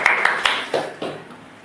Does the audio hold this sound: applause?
yes